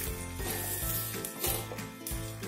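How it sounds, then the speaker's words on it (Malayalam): Chopped bitter gourd goes into a hot pan of masala with onions and is stirred, giving a steady close sizzle with soft scraping and stirring strokes throughout. "ഇതിലോട്ട് ഞാൻ നമ്മൾ അരിഞ്ഞു വെച്ചിട്ടുള്ള കൈപ്പക്ക ഇട്ട് കൊടുക്കുകയാണ്."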